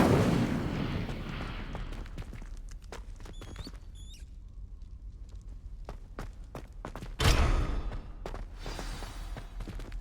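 Incendio fire spell cast in Hogwarts Legacy on Nintendo Switch, heard as a sudden loud whooshing burst of flame partway through, over a steady game ambience with scattered clicks and small chimes.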